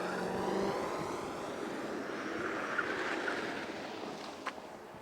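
A big luxury sedan is driven hard on an autocross course, its engine a steady, moderately faint drone that swells slightly and then eases, with no talking.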